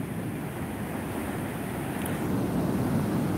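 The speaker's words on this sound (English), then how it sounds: "surfing these short pound type of waves that are coming through now" Small, short pounding ocean waves break on the shore in a continuous wash of surf, steady and fairly loud, with wind buffeting mixed in and no voices.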